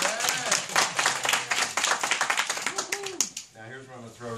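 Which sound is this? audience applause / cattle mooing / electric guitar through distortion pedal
audience applause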